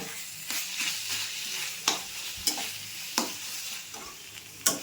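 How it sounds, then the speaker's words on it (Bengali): Taro greens with prawns sizzle in a pan, and a spatula scrapes and taps the pan in several sharp, irregular strokes over a continuous close frying hiss. "এরপর নেড়ে নেব।"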